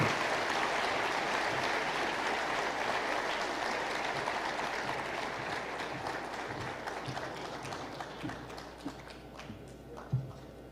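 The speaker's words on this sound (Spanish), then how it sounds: "Para todos ustedes, los organizadores, este aplauso también" A conference audience applauds the event organizers, a dense sustained round of clapping from a large crowd that slowly thins out toward the end.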